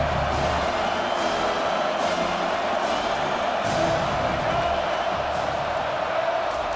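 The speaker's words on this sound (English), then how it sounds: "Decibels rising as the crowd gets behind this defense on 3rd down." A stadium crowd in the College Football 25 video game roars on a third down, a dense, loud, sustained wall of cheering and shouting that swells slightly without pause.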